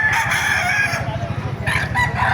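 A rooster crows loudly and close by at a rooster market in Baliuag, Bulacan, a long drawn-out call followed by another starting, over a steady low rumble.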